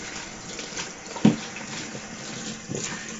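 Water runs from a tap to wet a badger shaving brush with a 20 millimeter finest knot, a moderate steady hiss close by with one small knock partway through and no talk over it.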